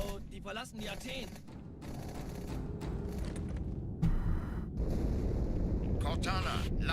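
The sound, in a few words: explosion in Halo 2 video game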